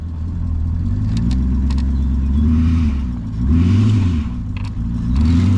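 A car engine revs hard under acceleration during a jump-starter test, loud and close, with rising and falling engine pitch sweeps and no talking.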